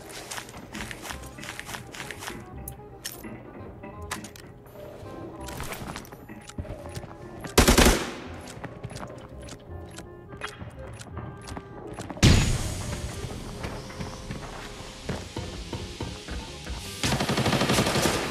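Automatic rifle fire and bursts of gunshots from the video game Arena Breakout, with footsteps between volleys and two loud blasts standing out, while players talk over the action.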